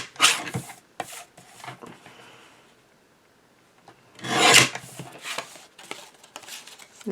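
Paper edges of a recycled thank-you card with a pink glittery border being trimmed, heard as a few short, close rasping cuts in two clusters separated by a quiet pause.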